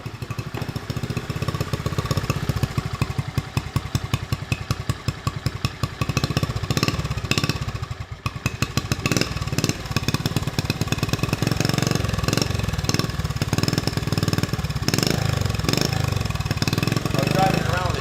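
A 1970 Honda CT70 motorcycle engine running with the choke on, a loud, fast, steady small-engine putter that dips briefly midway, while someone talks over it.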